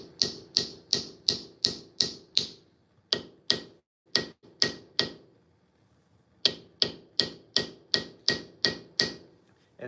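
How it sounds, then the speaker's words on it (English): A hammer gently taps brass pins while they are being set, landing in quick, steady bursts of sharp, ringing metallic strikes with short pauses between groups, close and clear with no talking. "I'm going to give them a couple more gentle taps."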